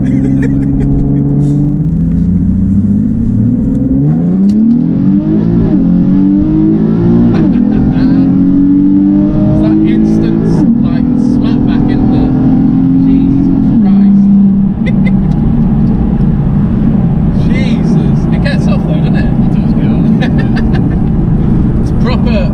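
A tuned 380bhp Nissan 370Z revs and accelerates hard, its loud engine note climbing and dropping through several gear changes over twenty seconds, with excited voices talking over it.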